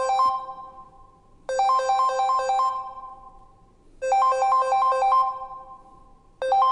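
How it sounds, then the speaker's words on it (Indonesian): A mobile phone ringtone going off in a mosque, a bright repeating electronic melody in three loud bursts about two and a half seconds apart, each fading before the next, with no talking over it. "Di masjid mana boleh handphone berbunyi macam ni."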